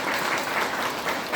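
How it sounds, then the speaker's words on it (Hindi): An audience bursts into dense, sustained clapping at a motivational business seminar in Tulsipur, Dang, Nepal, a steady wash of applause for the whole moment. "आर.डी. पटेल सर के लिए एक जोरदार ताली होनी चाहिए।"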